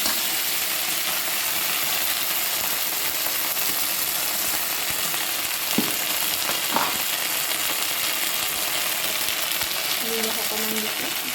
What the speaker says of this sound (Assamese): এতিয়া বইল কৰি থোৱা কচুখিনি ফ্ৰাই কৰিম ইয়াতে